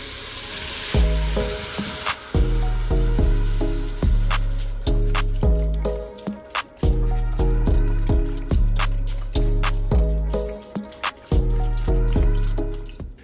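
Vegetable broth poured from a carton into an Instant Pot glugs in a rhythmic series of loud, close gurgles and splashes, pausing briefly between pours, with no talk.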